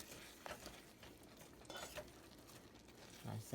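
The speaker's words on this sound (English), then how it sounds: "Let's stir that in." Crowder peas with smoked turkey wings being stirred in a pot, a soft close scraping and sloshing with faint clinks, quiet and with no talking.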